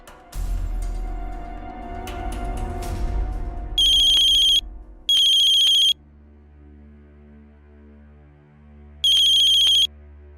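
A phone rings on an outgoing call, three clear electronic rings spaced apart, after a stretch of louder low rumbling and handling noise, with a faint hum between rings.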